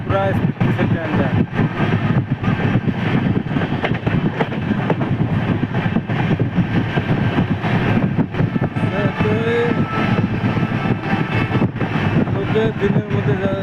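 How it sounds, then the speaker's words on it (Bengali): Train running at full speed through rural farmland, a dense continuous roar of wheels and carriage rattle with rhythmic clatter, close and loud throughout, with a voice speaking over it. "পুরা স্পিড দিচ্ছে ট্রেনটা।"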